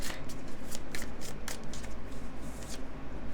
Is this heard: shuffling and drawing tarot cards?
yes